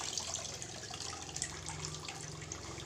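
Water pours and drips steadily as dyed batik tulis cloth is lifted out of the dye bath and left to drain. The wash of liquid is continuous and moderately close, with no speech.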